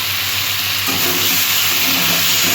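A Bengali fish curry with tomatoes, sautéed down in a pan, gives a loud, steady sizzle with a rough stirring texture throughout.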